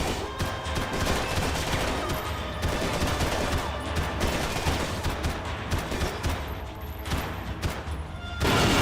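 Sustained gunfire in Max Payne 3, with dense rapid shots and booms layered into a continuous loud barrage that cuts out abruptly near the end.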